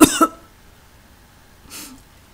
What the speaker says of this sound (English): I threw that cough in there